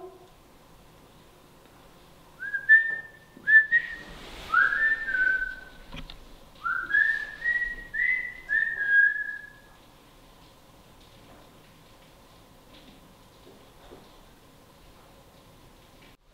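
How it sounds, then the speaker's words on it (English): Someone whistles a short melodic run of rising and sliding notes inside a reputedly haunted hospital, clear and fairly close against a very quiet background, lasting several seconds before fading out. "Can you whistle?"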